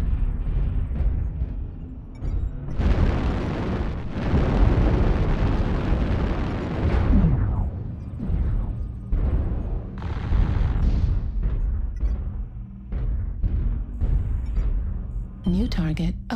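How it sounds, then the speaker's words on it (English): Heavy booming explosions from an airstrike in MechWarrior Online on the Terra Therma map roll out in several loud bursts, mixed with gunfire pops and short game voice announcements. "Airstrike activated."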